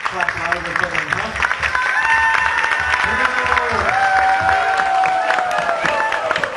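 Audience applause and cheering after a Rama Navami devotional drama performance, dense steady clapping from a crowd with some voices and calls mixed in throughout.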